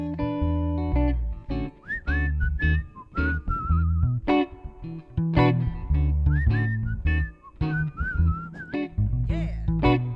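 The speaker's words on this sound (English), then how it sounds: "One more whistle." Melodic human whistling rings out in repeated short phrases over live band music with bass and drums, clear and prominent in the mix.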